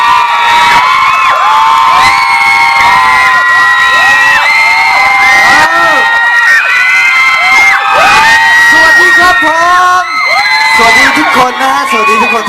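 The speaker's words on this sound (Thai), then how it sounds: "ขอบคุณมากๆครับสำหรับเสียงกรี๊ด" A dense crowd at a mall concert screams and shrieks continuously, high-pitched voices layered loudly over one another with whoops rising and falling throughout.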